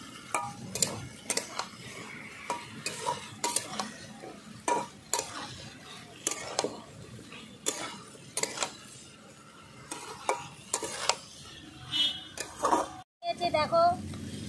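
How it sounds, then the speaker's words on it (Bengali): Spring onion stalks are stir-fried in a pan for a village-style tilapia curry, with repeated spatula scrapes and clatters over a low sizzle, fairly close. "ভালো করে কষিয়ে নিচ্ছি 2 মিনিট পেঁয়াজ কালি দিয়ে।"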